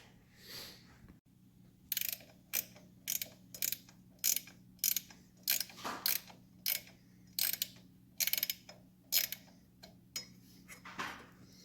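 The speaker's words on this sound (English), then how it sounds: "I got it set right now, and I'm running these back 2 screws up." Screws being run in on a 2002 Harley Davidson Road Glide during rear wheel work, giving a rapid series of crisp ratcheting clicks in short bursts, close up and steady over a low hum, with no talking.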